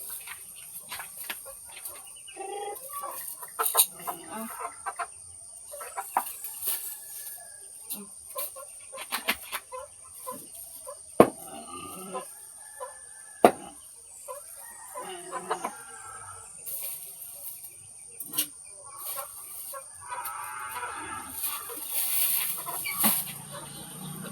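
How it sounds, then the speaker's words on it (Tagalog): Chickens cluck and squawk in a busy flock, with scattered sharp calls and rustling over a steady high-pitched hiss, fairly close. "So ato na pakanon ang manok."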